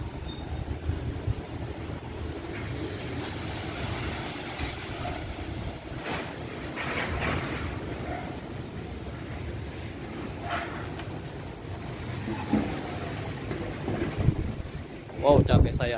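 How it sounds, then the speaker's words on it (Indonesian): Strong gusting wind in Rawamangun, East Jakarta, roars steadily across the microphone as a continuous low rumble, swelling into louder buffeting bursts toward the end. "Kencang banget anginnya."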